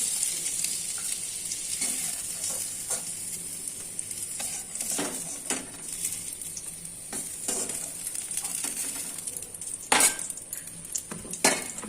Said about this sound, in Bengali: তো পটলগুলো ভাজা হয়ে গেছে আমি একে একে তুলে নেবো পটলগুলোকে তেল ধরিয়ে